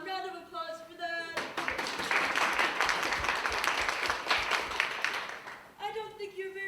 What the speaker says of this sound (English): Come on, round of applause for that.